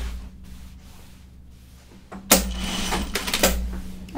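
A sewing machine runs in a burst of stitching across a pocket on Burnside Bibs overalls, loud and close after a quiet stretch of low hum.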